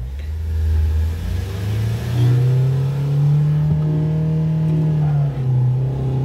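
A Mahindra XUV500 and a Scorpio with an old engine accelerate hard in a drag race, the engine note droning loudly and climbing steadily in pitch as the vehicles pull away.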